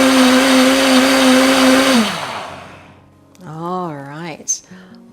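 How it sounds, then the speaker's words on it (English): A countertop blender whirs loudly and steadily, blending cashews and almonds into homemade nut milk, then winds down and stops around the two-second mark, after which someone speaks briefly. "we'll whiz it around just for another few seconds"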